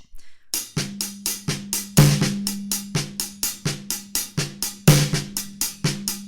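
A drum half-time shuffle groove with steady rolling hits and accented backbeats, a loping shuffle feel played up close.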